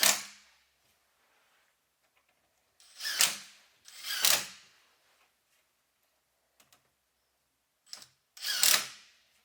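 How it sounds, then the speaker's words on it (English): Pan head screws are driven into Murphy door hinge holes with a few separate bursts of ratcheting, clicking driver noise, each short and close, set apart by silent pauses. "You're going to place 1 in each hole, and you'll screw those into place."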